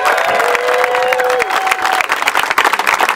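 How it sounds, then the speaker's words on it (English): Crowd at a Maryland political rally applauding and cheering for a Lieutenant Governor candidate, loud continuous clapping with whoops and a sustained shrill whistle or cheer, dense and close throughout. "Can we give Ken a round of applause?"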